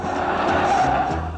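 A BMW 1600 brakes hard, its tyres skidding in a loud, sustained squeal with a rising and falling whine that holds for about a second and a half before easing off.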